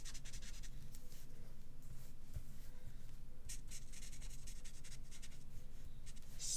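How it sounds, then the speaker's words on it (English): A pen scores scrap paper while a triple panel fold card is made, giving a steady soft scratching and rubbing that runs close and continuous throughout, with no talk. "I'm just going to use my pen"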